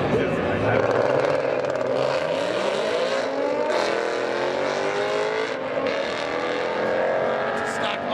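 A modified Ford Mustang at a drag race, its engine roaring continuously at high volume with a rising, revving pitch. Voices talk over the engine noise.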